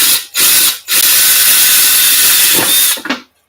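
A power drill with a countersink bit bores into a screw hole: three close, loud whirring bursts with short pauses between them, the last one winding down.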